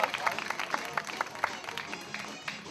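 Audience at an outdoor international peace rally in Gwangju clapping for a welcomed guest, a brief burst of scattered handclaps with distinct sharp claps standing out, moderately loud, with crowd murmur and some voices mixed in.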